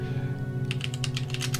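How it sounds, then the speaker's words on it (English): Quick bursts of typing on a computer keyboard, rapid light clicks close to the microphone over a steady low hum, with no talking. "I'm typing to Mason right now"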